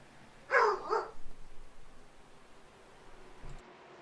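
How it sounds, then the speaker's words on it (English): A dog barks twice in quick succession somewhere off in the background of a quiet room, then the room stays near silent apart from faint rustling. "My apologies for my dog there in the background"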